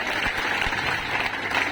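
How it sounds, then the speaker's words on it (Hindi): Audience applause at a spoken-English institute event in Patna, a steady even patter of many hands at moderate volume throughout. "चलिए एक बार कन्हैया सर के लिए फिर से जोरदार ताली हो जाए।"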